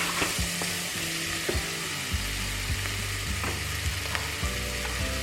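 Onion and leek frying in a pan, a steady close sizzle with light stirring scrapes and a low mechanical hum running underneath.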